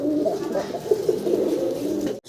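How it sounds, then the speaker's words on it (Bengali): Pigeons squabble at close range, their coos and throaty calls overlapping in a continuous, busy burst that cuts off abruptly near the end. "কবুতর একসাথে বেশি রাখলে যা হয় ঝগড়াঝাটি করে"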